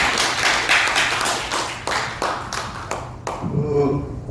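Audience clapping at a Korean constitutional debate forum, a patchy burst of hand claps that thins out and stops near the end, with a low hum and murmuring voices underneath.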